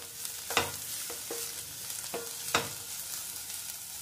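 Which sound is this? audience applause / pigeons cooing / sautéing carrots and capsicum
sautéing carrots and capsicum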